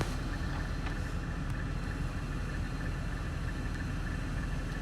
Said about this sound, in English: The car has a new sound.